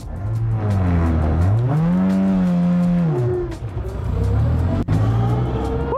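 A Formula 4 race car roars nearby, its engine rising steadily in pitch through the gears, then dropping and climbing again as it accelerates away; loud and continuous with no talking.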